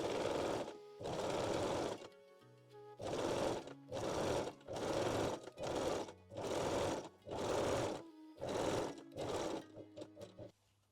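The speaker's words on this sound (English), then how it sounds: "Set your machine to zigzag or 3-step zigzag stitch and finish the underarms" Sewing machine running a zigzag or 3-step zigzag stitch over fold-over elastic on a bralette underarm, in about ten short bursts separated by brief pauses, close and steady with no talking.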